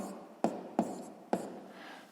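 A pen or pencil strokes across paper in three short, distinct bursts at a steady pace, close and fairly quiet, with faint room tone between strokes and no talking.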